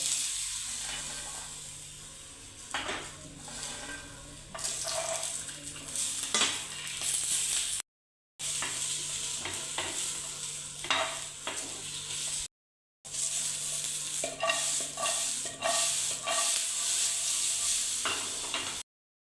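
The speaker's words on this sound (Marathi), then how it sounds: "ते खोबरं, टोमॅटो आणि लसूण हे मंद आचेवरती भाजून घ्यायचं आहे." Grated coconut, tomato and garlic roasting in a little oil over a low flame, a soft steady sizzle with occasional stirring scrapes, fairly quiet, broken by two brief silent gaps.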